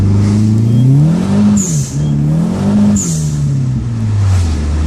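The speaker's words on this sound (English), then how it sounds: "here's a little second gear pull." Dodge SRT-4 accelerating hard in second gear, a loud close-up engine drone rising in pitch with a turbo-like whoosh, dipping briefly and climbing again before easing off.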